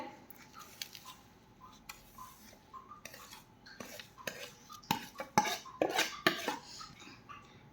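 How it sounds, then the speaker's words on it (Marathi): Semolina for rava ladoo is stirred into sugar syrup in a pot, a series of close clicks and scrapes from a spoon against the metal, getting busier and louder toward the end with no talk. "आता आपण यामध्ये रवा घालून घेऊयात"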